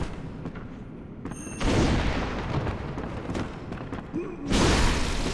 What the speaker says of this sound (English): there's a gun called the repeating pistol that does more damage per trigger pull. It shoots 2 bullets at a time.